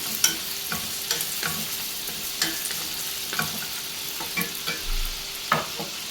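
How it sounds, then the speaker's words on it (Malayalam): Chopped ginger, garlic and green chilli sautéing in oil in a pan for homemade chicken curry: steady soft sizzle under a rhythmic series of spoon scrapes and taps, close by, with no talk. "ഒരു മീഡിയം കഷ്ണം വലിപ്പത്തിൽ ഇഞ്ചി ഇട്ടിട്ടുണ്ട് അതരിഞ്ഞത് ഒന്ന് വഴറ്റിയെടുക്കാം"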